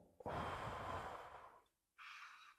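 Two breaths during a guided meditation: a long, audible inhale or sigh lasting over a second, a short pause, then a briefer exhale, close and alone with no talk.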